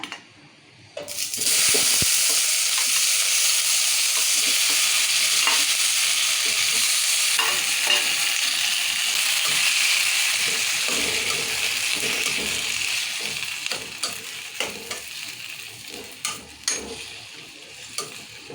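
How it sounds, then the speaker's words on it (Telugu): Tomatoes fry in a kadai for a long-keeping tomato and red chilli pickle, sizzling loudly and steadily while a utensil stirs them, the hiss tapering off toward the end. "ఇవి ఇప్పుడు మంచిగా ఇలా మా సన్నటి మాట మీద మంచిగా మగ్గించుకోవాలి మంచిగా మగ్గాలి మెత్తగా ఇలాగా కలుపుతుండాలి"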